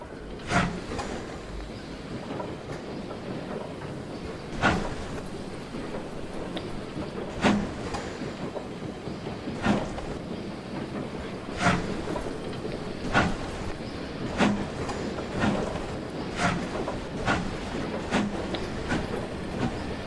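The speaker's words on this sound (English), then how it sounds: "The slow chuffs seem to be timed with the piston belt quite well." Slow, evenly spaced chuffs from a video game steam locomotive on the Brockenbahn, each a sharp puff over a low rumbling background, repeating at a steady unhurried rhythm.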